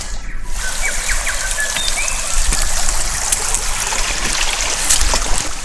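A shallow stream trickles and burbles steadily nearby while someone walks downstream along a muddy bank, with faint bird chirps in the background.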